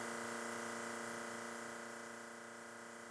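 A Dinair airbrush sprays makeup onto a tissue in a steady, continuous hiss with a faint mechanical hum from the compressor, close and fairly quiet, fading slightly over a few seconds.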